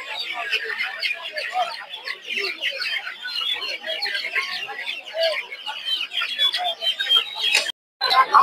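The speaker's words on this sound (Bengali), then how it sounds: "দেখতে পাচ্ছেন এই জায়গায় প্রচুর পরিমাণ হচ্ছে ফার্মি মুরগি" Farm-raised chickens clucking and chirping at a busy poultry and quail market in Narsingdi, a dense continuous chatter of many birds close by with a brief dropout near the end.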